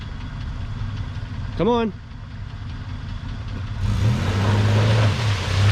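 A Toyota 4Runner on a steep slope idles and then revs harder with a steady, rising engine drone, close by. A man briefly calls out over the engine.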